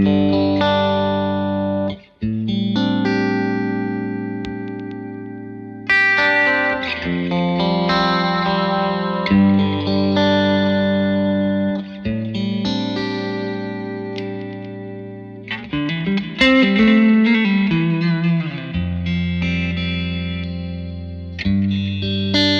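Clean electric guitar through a Victory VC35 The Copper amp with reverb, chiming chords and sustained notes ringing out with lush tail, phrases separated by brief pauses, loud and close with no talking.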